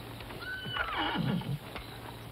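A horse whinnies once, a long descending neigh that ends in low snorting rumbles, heard fairly close over a faint steady hum.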